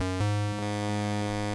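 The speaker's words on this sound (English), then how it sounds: "We've got a VA, a virtual analog oscillator, doing some" Sustained buzzy synth tone from an Arturia MiniFreak V virtual analog oscillator with hard sync, bright and harmonically rich, shifting timbre in a few steps, steady and loud with no talk.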